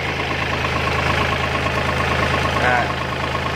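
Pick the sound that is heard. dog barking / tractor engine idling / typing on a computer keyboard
tractor engine idling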